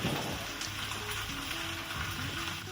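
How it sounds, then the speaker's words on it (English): Steady crackling sizzle of Louisiana dirty rice frying in a hot skillet as a crust forms on the bottom, continuous and close, with faint popping bubbles throughout. "That is the sound of a crust being formed on the bottom of the pan."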